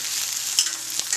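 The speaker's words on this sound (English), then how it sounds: "Now while I'm searing each side, I am going to attempt to push the edges up against the sides of this pan" A pork shoulder blade steak searing in a hot iron pan, a bright steady sizzle up close with a couple of brief scraping knocks as the meat is pushed against the pan sides.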